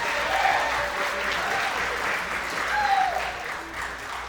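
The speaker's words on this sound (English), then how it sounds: "give a big round of applause for the bride and her father" Steady applause from a wedding reception crowd greeting the bride and her father, a continuous wash of clapping with a few faint voices and cheers mixed in.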